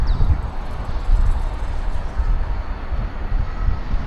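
A Chinese high-speed maglev train, rated for 400 km/h and floating about a centimetre above its guideway, gives off a steady, loud broadband rumble and roar that holds for the whole stretch with no talking.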